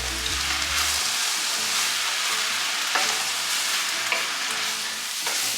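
Vegetables and frozen corn sizzle in a frying pan with a constant crackling, fizzing hiss, broken by a few sharp scrapes and stirs near the start and middle, close and steady with no talk.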